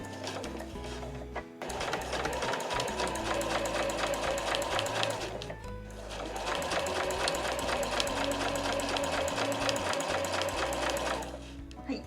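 Home sewing machine stitching two layers of cotton fabric scraps for a small house-shaped key case, running in two long steady bursts with a brief pause between, loud and close.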